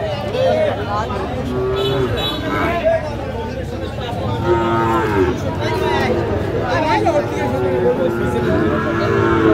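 Sahiwal bull lowing at a crowded cattle market, several drawn-out moos rising over steady crowd chatter and nearby voices.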